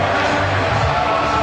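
A football stadium crowd erupts in a sustained roar after a Jesse Lingard goal for Manchester United against Real Madrid, a dense, loud wall of cheering with no gaps.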